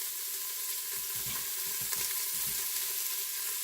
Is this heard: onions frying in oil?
yes